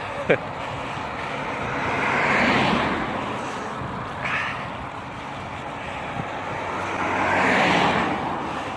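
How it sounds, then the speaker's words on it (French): Cars pass on a road during an endurance bike ride, with a couple of broad whooshes swelling and fading by at moderate distance under wind noise, plus a short sharp click near the start. "C'est chiant toutes ces bagnoles."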